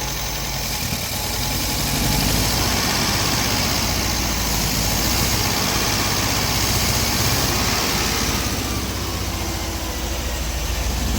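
A 1974 MG MGB engine running after decades unstarted, a loud, steady, slightly rough and shaky drone that rises as the throttle is opened and holds there, close up with no talking.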